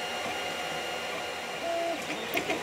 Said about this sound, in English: Here's a couple short clips of the dial being printed on the 3D printer